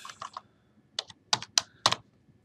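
Keystrokes on a computer keyboard entering a statistics function, a quick cluster of clicks followed by several separate, sharper taps, close and clear with no talking.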